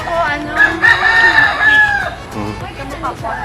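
A rooster crows once, loud and close, with a drawn-out call on a rambutan farm, followed by softer clucking and a faint voice nearby.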